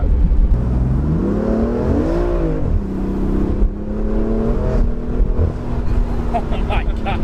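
A Stage 1 VF tuned BMW F80 M3 making about 470 wheel horsepower accelerates hard, its engine drone climbing and dipping as it revs close by and loud, with no talking.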